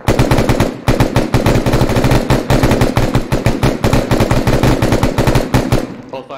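Machine gun fire in a video game, aimed at a cart: loud, close automatic bursts with rapid evenly spaced shots, running almost continuously with only brief pauses.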